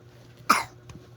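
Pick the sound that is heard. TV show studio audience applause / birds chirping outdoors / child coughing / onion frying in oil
child coughing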